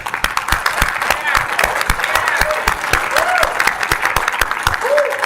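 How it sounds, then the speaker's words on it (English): An audience at a Las Vegas pre-launch event gives a guest a round of dense, continuous applause, loud and close, with crowd voices and cheers mixed in. "Guys, give him a round of applause."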